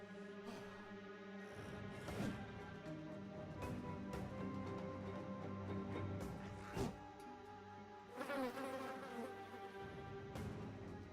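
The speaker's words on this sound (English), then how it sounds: "Not the bees. The bees are too strong." Bees buzz in the video game Battle Brothers, a faint, wavering drone with several insect whines rising and fading, alone without talk.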